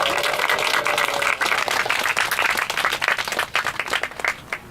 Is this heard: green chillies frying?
no